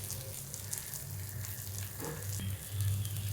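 Food roasting in an uncovered pan gives a continuous moderate sizzle and crackle, with low background hum and no voices.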